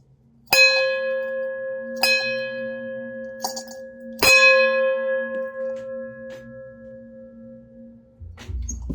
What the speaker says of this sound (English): Ring the bell for that.